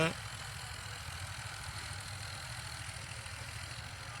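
A Swaraj tractor engine idles with a steady, quiet low rumble that stays even throughout, with no voices over it.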